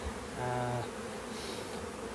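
Honeybees buzz at an open hive in late July, a short swell of droning wingbeats rising and fading within about two seconds, fairly quiet and close.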